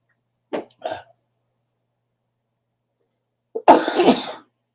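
Two short soft bursts, then a loud, explosive sneeze close to the microphone, with silence between them.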